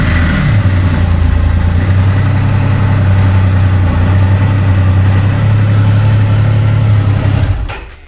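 A big-engine motorcycle, started with the clutch pulled in, catches and settles into a loud, steady, deep idle close by, then fades out at the end.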